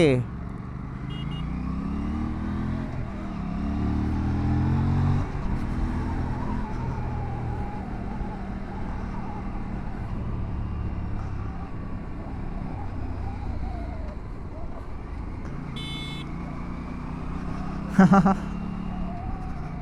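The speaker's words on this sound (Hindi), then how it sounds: "बाइक लगी है इको मोड पे, इसलिए मैं बड़े प्यार से चला पा रहा हूँ." Aprilia motorcycle cruising in eco mode on a road, a steady low engine drone with gentle pitch shifts, traffic and a horn-like burst near the end, heard beneath talking.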